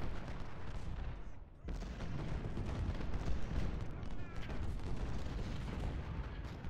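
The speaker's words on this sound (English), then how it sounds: "Just shoot your damn guns." A steady rumble of booming musket volleys and artillery fire rolls on through a Civil War battle in the strategy game Ultimate General: Civil War, dense and continuous.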